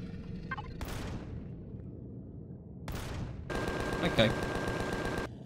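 Spaceship turrets fire in Empyrion Galactic Survival: two short sharp bursts, then a sustained rattling volley of rapid shots lasting nearly two seconds, with a brief spoken word near the start.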